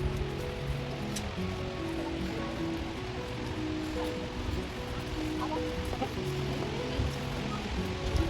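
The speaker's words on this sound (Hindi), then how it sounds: "तो यहाँ तो ऑलरेडी बहुत अच्छा साउंड आ रहा है झरने का।" Waterfall at Dassam Falls in Jharkhand, a constant broadband rush of falling water heard from a distance, with faint crowd voices mixed in.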